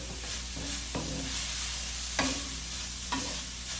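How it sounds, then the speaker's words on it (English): Ground beef casserole mixture stirred through in a greasy pan, soft steady sizzle with scraping strokes of the spoon landing every second or so, close and fairly quiet, no talking. "So we're just literally going to stir this through."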